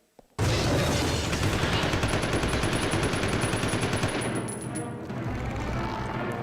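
Submachine gun fire against hunters in Resident Evil 0, a loud continuous rapid burst of automatic shots lasting several seconds with a steady rattling rhythm.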